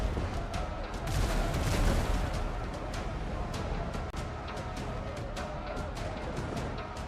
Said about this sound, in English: get the front cannons on him